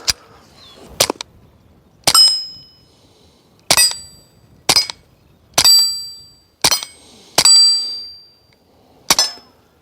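Suppressed gunshots firing Winchester Super Suppressed ammunition through a suppressor, about nine sharp muffled cracks at irregular intervals, each followed by a bright metallic ring, loud and close, with no talking.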